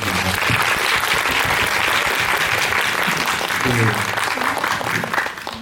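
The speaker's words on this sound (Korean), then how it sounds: "두 그 배우님께 박수 한번 부탁드리겠습니다." A festival screening audience claps for two actors after a film, a loud, dense and sustained round of applause from a large crowd, with some murmured voices mixed in.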